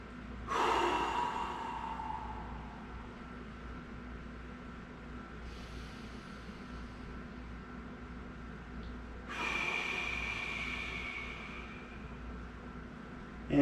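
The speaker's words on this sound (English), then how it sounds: "let's get 2 big breaths." Two deep breaths during a shoulder mobility stretch, each a slow, loud inhale and exhale close to the mic, spaced several seconds apart against quiet room noise.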